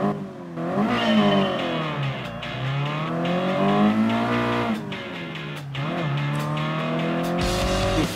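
A race car engine from the Gran Turismo Sport game revs and climbs through the gears, rising and falling in pitch with brief shifts and a hint of tire squeal, loud and continuous.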